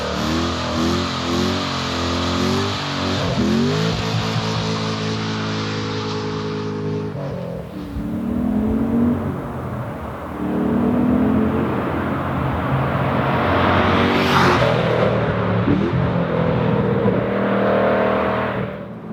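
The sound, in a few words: V8 sports car engine revving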